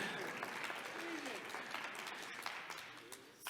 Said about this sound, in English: although it sounded a little bit like golf applause